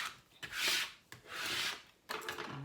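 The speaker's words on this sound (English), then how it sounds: "Now I'm using my trusty little scraper guy to make sure it's on here really, really well." A small scraper rubs transfer tape onto a glass cutting board in three close, firm scraping strokes, each a hissing sweep lasting about half a second.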